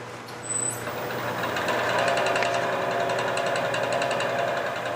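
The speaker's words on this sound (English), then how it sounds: "And that's going to be right at center, drilling at much lower speed." A wood lathe runs at low speed while a Morse taper shank drill bit in the tailstock bores into end-grain wood, giving a steady, close mechanical whir and hum with a faint rhythmic rattle throughout.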